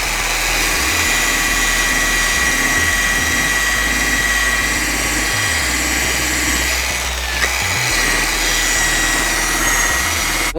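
An electric polisher with a wool pad buffs the plastic gas tank of a Kawasaki Tecate KXT250 three-wheeler at 1,000 RPM, making a loud, continuous whirring drone that stays steady and close throughout with no talk.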